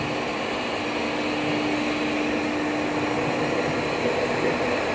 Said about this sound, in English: And here is the vacuum conveyor system.